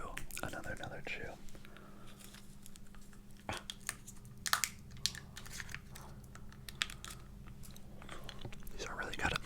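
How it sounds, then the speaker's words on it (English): Close-up crunchy chewing and biting of a snack in an ASMR setting, repeated wet crunches and mouth sounds throughout, mixed with soft whispering. "I'm gonna get another chew."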